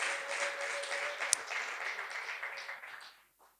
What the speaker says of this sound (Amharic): ከዚህ በላይ ለንጉሱ እልልታ ጭብጨባ ይሁንለት